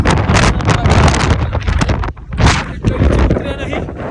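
Strong, cold wind on a mountain road near Leh buffets the microphone in loud, gusting rumbles that swell and briefly ease, with voices partly under it.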